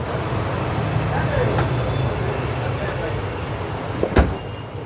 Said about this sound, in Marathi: आता मी डिक्की बंद करतो गाडीची.